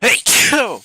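One sharp, loud sneeze bursts out close by, preceded by a brief vocal sound.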